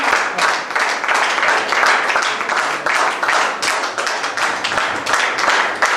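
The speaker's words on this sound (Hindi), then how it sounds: "इंदु मैम के लिए एक जोरदार ताली" A large crowd at a business gathering giving loud, sustained applause for Indu ma'am, a dense steady roar of many hands clapping together throughout.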